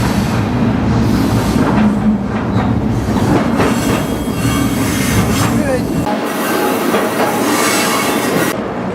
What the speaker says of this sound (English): the train is approaching the junction in Spokane